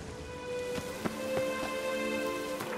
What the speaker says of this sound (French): Ah, je déteste quand il y a la pluie.